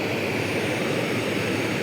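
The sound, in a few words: Jetboil camping stove burner roaring while boiling water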